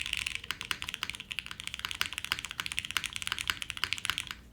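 Rapid, close typing on a Shadow 80 mechanical keyboard fitted with H1 switches: a dense, uneven stream of crisp key clacks throughout, with no voices.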